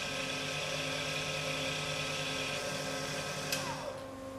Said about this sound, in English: frequent vigorous stirring on a vortex mixer